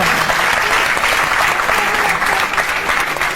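Steady, dense applause from a crowd, continuous clapping without a break throughout.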